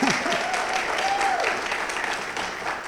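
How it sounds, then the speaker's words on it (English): Applause from an audience at a 2022 graduation ceremony for the graduating class, a steady clatter of many hands clapping at moderate distance with a voice or two over it. "Let's give them an applause."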